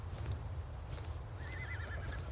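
Horses in the Farm Together 2 video game neigh and whinny in four short bursts at a regular pace, one with a wavering squeal, over a low steady background hum.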